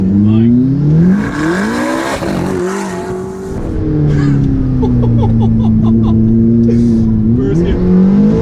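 An ATS GT sports car pulls hard in first gear, its engine note climbing loudly and steadily close by, dipping briefly mid-run and then rising again to a high rev, with someone talking excitedly over it.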